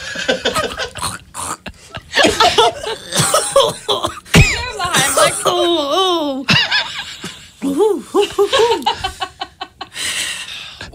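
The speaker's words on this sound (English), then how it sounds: "Mid cough." A person coughs repeatedly in loud, ragged bursts mixed with laughter and shouted reactions from others nearby during a shock collar prank.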